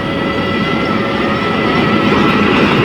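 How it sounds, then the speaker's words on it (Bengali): A train rolls through the railway crossing at Jurain rail gate: a loud, continuous rumble of wheels and wagons that fills the whole stretch at close range, with no voices. "ট্রেন যাইতেছে"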